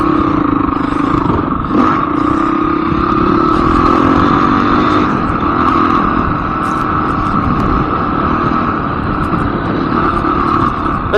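A Honda CRF250X dirt bike ridden through the desert toward Yerington, its engine buzzing loud and steady at a constant pitch with wind noise underneath, and no voices.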